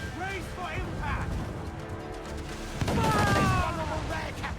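Ship cannons firing during a naval battle in Assassin's Creed 4 Black Flag, a rumbling barrage of booms and crashes building to a heavier burst, with shouted voices mixed in.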